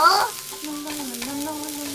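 Minced garlic and scallions frying in oil for scallion oil, a bright crackling burst at first that settles into a steady close sizzle with stirring, a soft tonal hum underneath, no voices.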